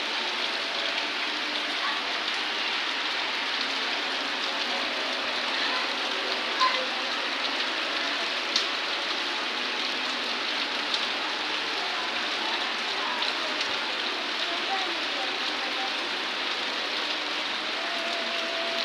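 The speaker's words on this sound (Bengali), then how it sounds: "জোরে জোরে বৃষ্টি আসতেছে" Heavy rain pours steadily in Noakhali, a dense, continuous hiss of downpour that stays even and loud throughout, with no voices over it.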